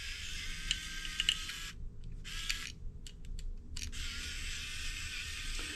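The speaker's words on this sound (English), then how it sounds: "Four little screws around the outside, 2 there. Lots of unscrewing on this." Small screws being removed from an old security camera produce close, crisp clicks and short ticking bursts, separated by brief pauses, in a quiet setting with no talk.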